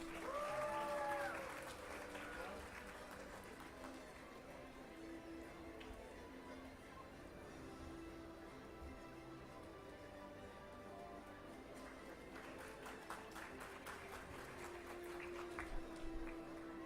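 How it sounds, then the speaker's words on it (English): An audience applauding debate winners at a South India level debate competition, sustained clapping in a hall, fairly faint and distant, fading then swelling again toward the end. "Audience, please cheer the winners."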